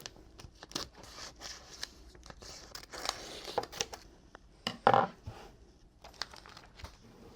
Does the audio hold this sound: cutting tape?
yes